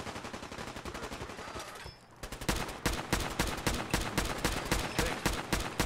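Rapid bursts of automatic gunfire from the game Fallout 4 rattle out in dense, repeated volleys, pausing briefly before resuming louder and closer.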